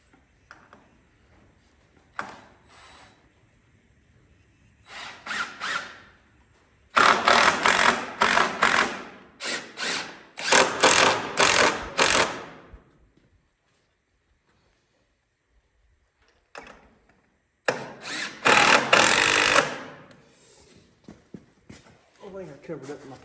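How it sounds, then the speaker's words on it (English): A power drill drives a screw into a 2x2 corner of a small wooden eggmobile frame, with bursts of loud whirring broken by pauses, and speech heard in between. "I guess I'll only be putting one screw in it."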